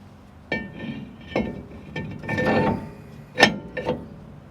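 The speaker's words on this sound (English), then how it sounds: "now with clean gloves, I'll go ahead and install our rotor." Metal brake rotor fitted onto the front hub of a 2009–18 Dodge Ram 1500, with several clanks and metallic clinks spaced over a few seconds, close and moderately loud.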